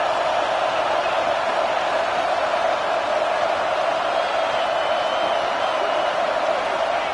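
A dense, unbroken roar from a football stadium crowd during a Gators game, loud and constant with no pauses, a broad wash of many voices filling the space.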